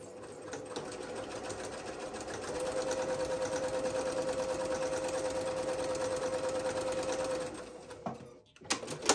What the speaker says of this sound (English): Now I will top stitch.